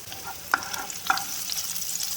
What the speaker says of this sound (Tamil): ஆயில் சூடானதும் நம்ம சாப் பண்ண ஜிஞ்சர் கார்லிக் சேர்த்துக்கோங்க. இது நல்லா ஃப்ரை ஆனதும் சாப் பண்ண க்ரீன் சில்லி சேர்த்துக்கோங்க.